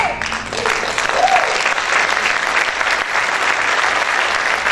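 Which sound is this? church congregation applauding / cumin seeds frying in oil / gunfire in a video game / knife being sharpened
church congregation applauding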